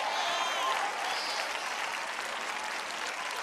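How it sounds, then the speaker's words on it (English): Women in a church congregation clap together in a sustained, dense burst of applause that fills the room evenly, loud and continuous from start to finish. "Clap, ladies, right there."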